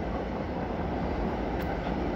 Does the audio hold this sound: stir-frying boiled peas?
no